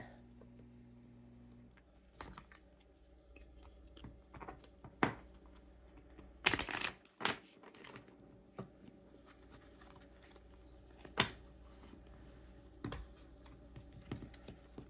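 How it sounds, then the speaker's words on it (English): Soft, scattered clicks and light taps of cards being handled and shuffled, with one brief louder riffle in the middle, in a quiet room. "We're now going to shuffle the court cards"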